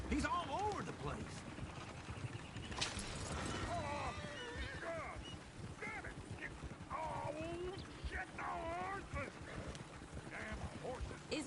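Horse whinnies and neighs in the Western video game Red Dead Redemption 2, several rising and falling calls over clip-clopping hooves and busy ambient game sound, with character voices talking at points.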